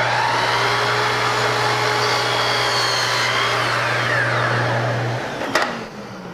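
A miter saw set to 30 degrees whines at full speed while cutting wood trim for an outside corner, a loud steady motor drone that winds down after the cut with a brief clatter at the end.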